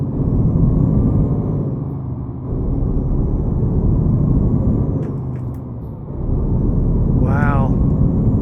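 A big truck rolls past in Euro Truck Simulator 2, its steady engine rumble filling the clip and swelling as it nears, with a brief air-brake hiss near the end; a voice talks over part of it.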